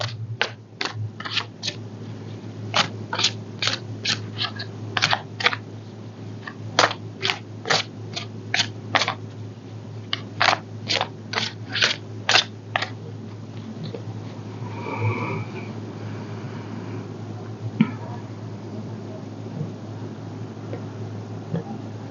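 A deck of tarot cards is shuffled in repeated quick riffling bursts, loud and close against a steady low hum, then quieter handling of the cards toward the end.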